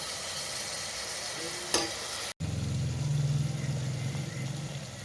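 Masala for a paneer curry is stirred in a pan with a spoonful of water, producing a continuous close sizzle with a sharp burst when the water hits, then steadier bubbling frying.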